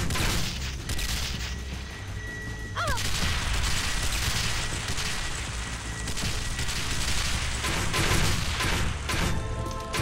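Dense, continuous barrage of booming cannon and gunfire in the video game Banzai Escape, rapid shots overlapping into a loud, rolling roar with a brief whistling sweep partway through.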